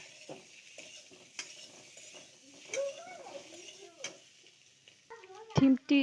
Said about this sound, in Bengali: ডিমটি দিয়ে দিচ্ছি, ডিম দিয়ে দিয়েছি, একটু লাড়িয়ে নেব